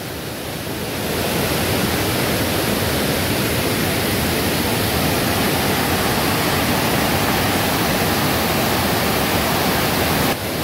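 Strongly rushing water in a Konkan stream near a temple roars loud and unbroken, a dense, constant wash of noise swelling up within the first second and holding steady.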